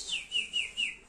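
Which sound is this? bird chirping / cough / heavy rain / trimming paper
bird chirping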